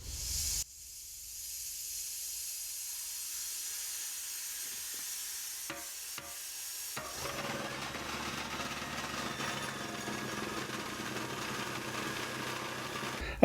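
An air compressor drives a homemade turbine vibratory cleaner on a test run. After a near-silent stretch and a few sharp clicks, a steady hissing, humming roar kicks in and continues at moderate level to the end.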